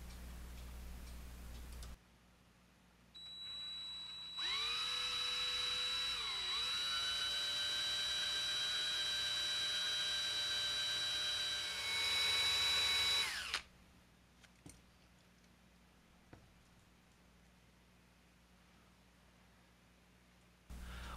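A high, steady whine of a drill bit cleaning up the ends of metal posts on a Hot Wheels Redline car, running about nine seconds with a brief dip in pitch, then stopping, followed by faint clicks.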